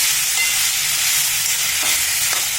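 Snake gourd slices frying in hot oil, a steady close hiss of sizzling with faint stirring scrapes throughout, no voices.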